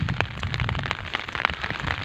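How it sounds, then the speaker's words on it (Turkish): Heavy rain falls on a village in spring, a dense, steady patter of drops striking surfaces close by, continuous and fairly loud with no voices. "Şu an itibariyle de şiddetli bir yağmur başladı."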